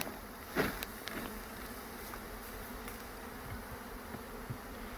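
Honey bees buzzing around an open hive as foragers take off, a soft continuous drone with a few louder passes of single bees close by, and no voices.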